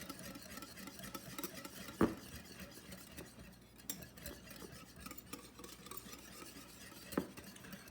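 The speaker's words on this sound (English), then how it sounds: "I'm going to mix this together." Dipping mixture for pork chop breading is whisked in a bowl, giving a faint, steady swishing and stirring with a couple of soft clinks against the bowl's side.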